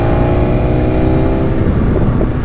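A 2021 BMW S1000RR drag-bike engine rumbles steadily at close range with a low, throbbing exhaust note that holds for a couple of seconds, with no one speaking.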